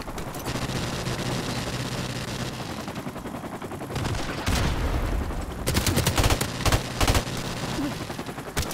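Gunfire in Call of Duty: Modern Warfare Remastered free-for-all multiplayer, a steady bed of battle noise punctuated by loud close bursts of rapid shots, with a cluster of sharp reports near the end.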